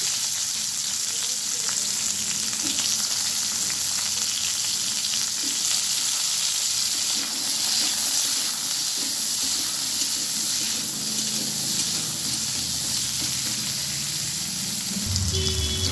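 Potatoes frying in a pan with cumin seeds and green chilli, a loud, continuous close-up sizzle with occasional faint utensil scrapes and a knock at the end.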